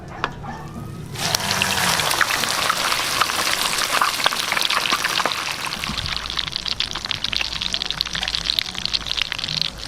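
Steady crackling sizzle of breaded whole chicken cordon bleu frying in hot oil, starting abruptly after a second of quiet and continuing loud and dense throughout.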